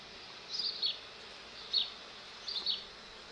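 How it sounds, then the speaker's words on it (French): Honey bees buzzing around an opened hive during a hive inspection, three close passes of whining buzz rising and fading over a faint steady background hum. "Vous voyez, elles ne sont pas du tout agressives. Vraiment des gentilles abeilles."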